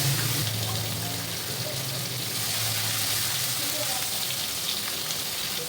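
Ginger garlic paste frying in a pan over a high flame makes a continuous, dense crackle and hiss, even and unbroken, with no voices.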